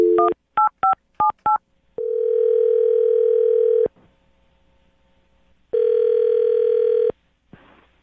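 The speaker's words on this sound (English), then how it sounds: "I'm going to dial his phone number right now" A telephone number is keyed in as a quick series of distinct touch-tone beeps, followed by two long, loud ringback tones separated by a pause, then a short click.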